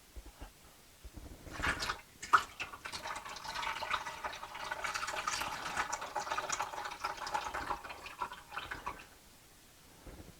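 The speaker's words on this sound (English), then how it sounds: "Let's see if I can just pour that little bit." Hot homemade apple cider is poured from a pot in a steady splashing stream that lasts several seconds, then tapers off. The pour is fairly close, and there is no talk over it.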